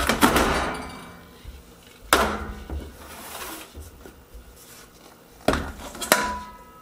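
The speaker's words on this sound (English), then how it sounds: "I am going to then dump all this back into the original pot." A ground venison and pork mixture is dumped from a container back into a metal pot, making several loud clanks and thuds spaced a couple of seconds apart, with softer scraping and knocking between them.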